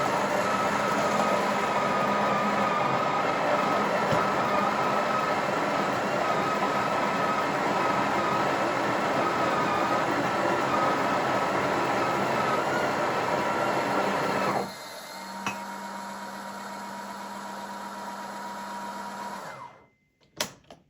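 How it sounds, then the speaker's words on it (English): Loud, steady motor drone from a Breville Oracle Touch BES990SST espresso machine as its grinder and tamper motors run, shifting to a lower hum near the end before cutting off with a couple of clicks. "It is quite noisy with the grinder motor spinning and the tamper motor spinning"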